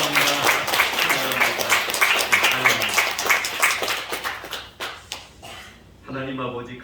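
A Korean church congregation claps to welcome newly ordained deacons at a Sunday worship service, a rhythmic round of applause that thins and fades out, followed by a voice speaking briefly.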